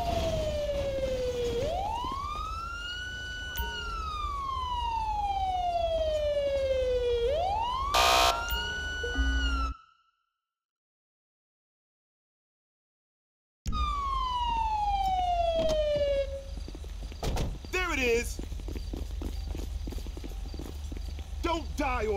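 A wailing emergency siren in GTA5 rises and falls in long sweeping cycles, loud and near, cut by a brief silence, then resuming alongside clip-clop hoof sounds and radio chatter voices.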